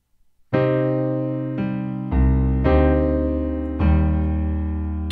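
Slow piano rendition of a song, five sustained chords struck one after another with rich low bass, each ringing and decaying before the next, played alone.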